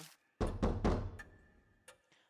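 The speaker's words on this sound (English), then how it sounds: "There's a sudden knock at the door." Knocking at a door in the horror adventure game Death Mark: three heavy, hollow thumps in quick succession, then a fainter tap, each followed by a short ringing decay in an otherwise quiet room.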